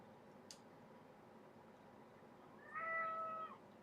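A cat meows from behind a closed door, one clear drawn-out call near the end, after a faint brief sound, in an otherwise quiet indoor room with no talking.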